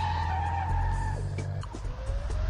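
Car tires skid and squeal in the video game Urban Chaos: a steady high squeal slides downward over a loud engine rumble, then smaller scraping skid noises, all close and continuous.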